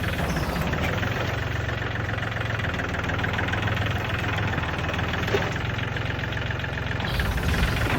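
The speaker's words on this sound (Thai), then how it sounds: "ใส่รถไถขุดเอาเลยครับนี่" A tractor engine drones steadily and loudly with a rough, chugging texture, running continuously without pause while plowing up cassava roots in a field.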